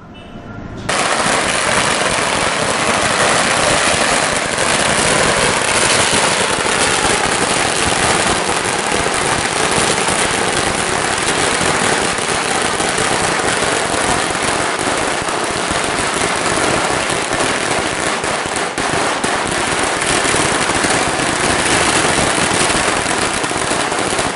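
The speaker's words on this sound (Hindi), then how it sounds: "हनुमान चौक में जमकर आतिशबाजी की गई" A long, dense barrage of firecrackers and fireworks crackles and pops continuously and loudly at a celebration in Hanuman Chowk, Balaghat, with no break for over twenty seconds.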